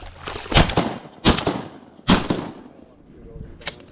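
Shotgun shots fired at ducks during a small-creek duck hunt, three sharp loud blasts spaced under a second apart with a fainter fourth near the end, amid background noise.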